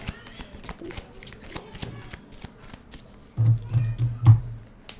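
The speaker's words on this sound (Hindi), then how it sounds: "मैं 3 बारी शफल करूँगी एंड जितने कार्ड्स हमें रिसीव होंगे उन्हें हम सारे देंगे।" A deck of tarot cards is shuffled by hand, a soft riffling and flicking that turns into a louder, denser burst of shuffling toward the end, with no one speaking.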